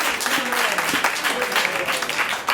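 A comedy show crowd breaks into applause, a thick, continuous burst of clapping with some voices mixed in, loud and sustained throughout.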